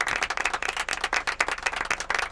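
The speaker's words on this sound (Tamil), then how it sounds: "கரகோஷம் கொடுத்து வாங்க" Scattered, uneven clapping from a Tamil New Year pattimandram debate audience, close and moderately loud in short bursts rather than a full ovation, with no voices over it.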